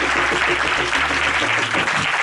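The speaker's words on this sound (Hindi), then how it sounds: "जोर से ताली मारी" A church congregation claps loudly during a worship service, a dense steady wash of applause lasting the whole moment with a low hum underneath.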